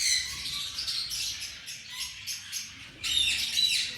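Gouldian and snow white finches chirp and tweet in quick, high-pitched calls that overlap and rise in a livelier burst near the end.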